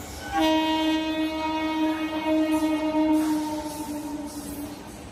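Train 04651, the Jaynagar–Amritsar Special, hauled by a WP7 locomotive, sounds a loud, sustained horn blast as it passes, over a steady rumble of rolling wagons.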